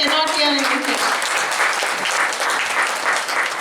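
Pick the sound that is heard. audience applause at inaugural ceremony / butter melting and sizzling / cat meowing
audience applause at inaugural ceremony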